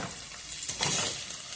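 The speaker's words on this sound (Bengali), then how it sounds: "পেস্ট করে রাখা মশলাটা দেওয়ার পরে আমরা এটাকে আবার কষাবো" Ground spice paste sizzles and hisses steadily in a hot pan, a dense, close frying noise with soft stirring scrapes and no talk, while lunch is being cooked.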